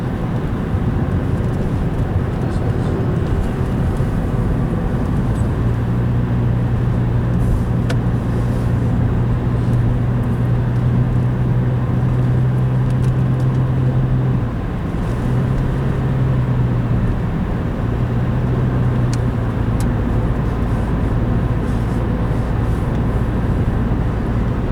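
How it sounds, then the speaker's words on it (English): Car interior at night around 2 a.m., a steady low road and engine rumble heard from inside the moving vehicle, with a faint tonal hum rising and falling midway as traffic passes, continuous throughout with no talk. "A lot of traffic on the road tonight."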